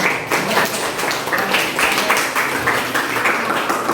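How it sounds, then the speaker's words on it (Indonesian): A classroom of students claps their hands in praise during a civics lesson. Dense, continuous clapping fills the room and stays loud and close from start to finish. "jadi tepuk tangan dulu, pertanyaannya bagus ya."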